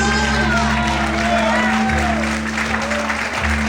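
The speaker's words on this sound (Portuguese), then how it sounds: "Vamos poder aplaudir e exaltar o Senhor." Church congregation applauding during a worship service, a steady wash of clapping with cheers and shouts mixed in, over a sustained low musical drone, with voices heard throughout.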